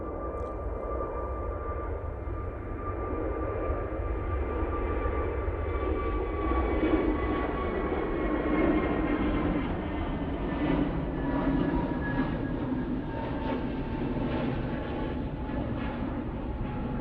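An Airbus A321 airliner at Manchester Airport roars steadily for the whole stretch, a broad engine rumble with faint whining tones that swell slightly midway, heard alone without talk.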